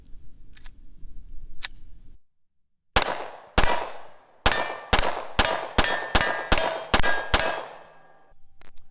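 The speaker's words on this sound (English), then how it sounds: "Let's go ahead and shoot another mag." A Glock 26 Gen 4 subcompact pistol fired at a range: a rapid string of about ten sharp, loud, close shots follows a brief silence, with some spaced apart and others in quick pairs.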